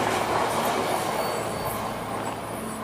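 A Tokyo Metro Hanzomon line train rolls through a station, loud and close, with a broad rushing rumble and faint wheel squeal and clatter, no voices.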